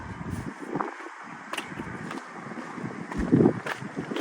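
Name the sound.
wind blowing into microphone outdoors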